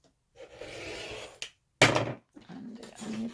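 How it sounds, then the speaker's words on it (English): Scissors snip through the furry fabric edge of a sewn tote bag in several short close rasping cuts separated by brief pauses. "we're just going to cut off this little bit of furry edge."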